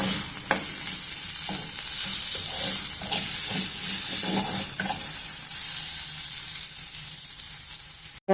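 Chili powder and salt frying in a pan for gobi fried rice, a continuous bright sizzle with intermittent stirring scrapes and clinks of the spatula against the pan.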